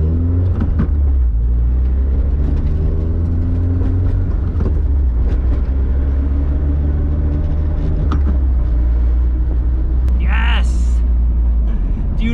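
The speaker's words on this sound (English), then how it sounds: "I'm gonna go test drive the car" A Mazda Miata NA on a test drive: a steady, loud engine drone that climbs and drops with gear changes, with a voice talking over it.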